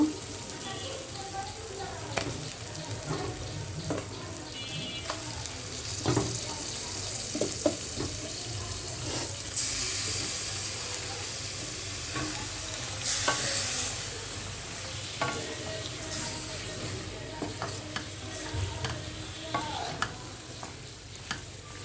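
Mutton pieces tipped into a pan of fried spice paste give a steady hiss and sizzle, with scraping and stirring throughout and a few clinks and knocks of a utensil against the pot.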